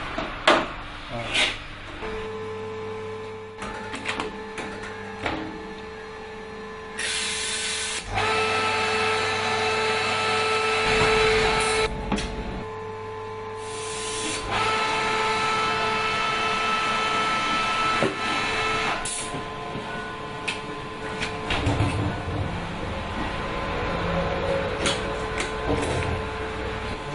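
Cider press apple juice machine running steadily, a loud continuous motorized whir and hum with shifting tones, occasional clunks and pauses, and faint talk nearby.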